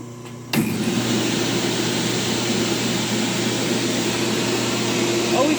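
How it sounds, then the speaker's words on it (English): Orthotic material being ground down beneath the navicular area of a foot orthotic, a steady broadband grinder whine starting abruptly after a brief pause and running continuously at close range. "So I'm grinding this a little bit."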